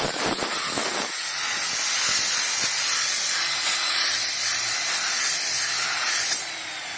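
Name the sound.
blowing out a polishing pad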